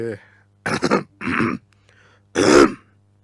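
A storyteller clears his throat in a few rough, close bursts separated by short pauses, with a low steady hum underneath.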